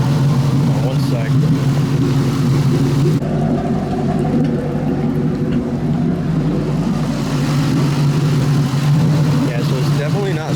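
A Ford Mustang engine idles steadily with a low, continuous rumble while the engine shakes with a fault, a close, even drone with no clear voices over it.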